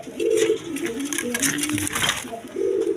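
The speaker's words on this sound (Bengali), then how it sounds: "একদম বিগ সাইজের কবুতর" Large pigeons kept for sale coo in low, steady, throaty phrases, close by, with light pattering and shuffling in the background.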